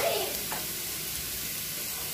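Onion and capsicum frying in a pan give a steady, close, broadband sizzle, with a brief stirring scrape at the very start.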